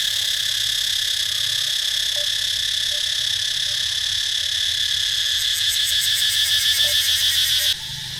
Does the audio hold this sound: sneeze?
no